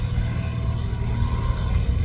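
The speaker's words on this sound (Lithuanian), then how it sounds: "Taip, vat ten lėktuvėlis kyla." A small propeller airplane takes off from an airfield runway, giving a steady, low, droning engine rumble from some distance, with no voices.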